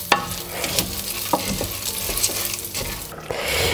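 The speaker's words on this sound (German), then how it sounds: "Und rührst das Ganze gut um, dass diese mit den Kräutern, mit dem Kokosöl schön vermengt werden." Chickpeas, herbs and coconut oil stirred in a hot pan: a steady sizzle of frying under repeated scraping strokes of a spoon, close and fairly loud, with no talking.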